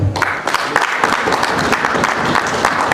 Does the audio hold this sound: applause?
yes